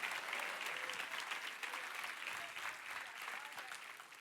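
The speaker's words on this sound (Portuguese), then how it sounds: "Se é para aplaudir, aplauda glorificando a Deus" A church congregation applauding, a fairly distant, continuous wash of clapping that holds steady throughout with faint crowd voices beneath it.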